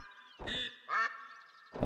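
Ducks quacking at a hunting spot in The Hunter: Call of the Wild, a few loud close quacks in quick succession over a steady background hum.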